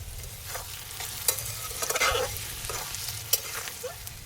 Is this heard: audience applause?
no